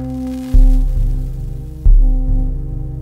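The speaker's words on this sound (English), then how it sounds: "put this white noise into the sound of the oscillators and they sound majestic." White noise mixed into the oscillators of a Plumbutter synthesizer, a steady harmonic drone with low throbbing pulses that swell twice, loud and close, with no talk.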